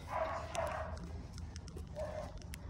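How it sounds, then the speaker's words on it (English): A dog barks indoors at home in two short bursts, a pair of quick barks near the start and another shortly after two seconds, moderately faint over a low background hum. "There's a certain dog that wants out."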